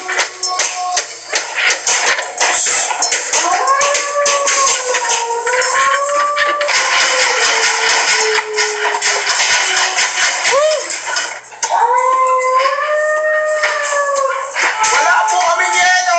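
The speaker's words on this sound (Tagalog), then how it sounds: "Tsaka alulong ng aso? Nakakatakot eh." Long, wavering howls rise and fall repeatedly over dense noise, with a brief pause before the howling resumes, loud and close.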